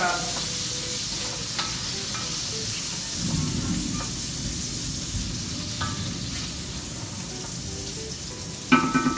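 Garlic frying in a pan for spaghetti squash carbonara, a continuous steady sizzle with faint stirring scrapes, ending in a brief louder clatter.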